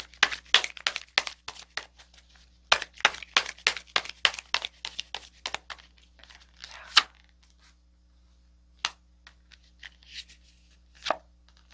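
Tarot cards snapped, flicked and shuffled by hand at close range, a rapid burst of crisp papery slaps and riffles followed by a few scattered single card sounds after a pause; no voices.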